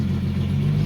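A Nissan VQ35HR V6 swapped into a Toyota Cressida idles, a steady, low, close-up rumble with an even hum and no change in pitch.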